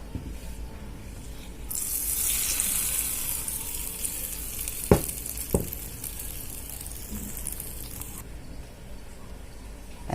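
A hot tempering being stirred into a ridge gourd yogurt chutney, with a burst of sizzling hiss early on and a couple of sharp spoon knocks against the vessel.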